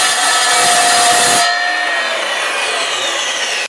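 Ryobi R255SMS 10-inch sliding miter saw cutting through pipe, a loud bright whine of blade on material that stops abruptly, then the motor spinning down alone for a couple of seconds.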